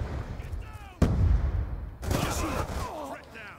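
MSMC submachine gun fire in Black Ops 2, with sharp broadband bursts at about one second and again around two seconds, loud and close, mixed with busy game effects and some voice chatter.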